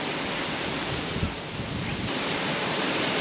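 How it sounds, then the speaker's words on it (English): Strong, harsh wind roars in a continuous broadband rush, buffeting the microphone with gusty surges. Loud and close, with no voices. "Oh, the wind is harsh, very strong, harsh to the skin."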